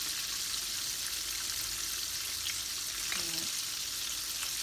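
KFC-style fried chicken crowded into a small wok over high-ish heat, sizzling and crackling steadily in hot oil, close and continuous with no talk.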